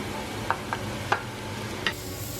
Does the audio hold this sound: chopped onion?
yes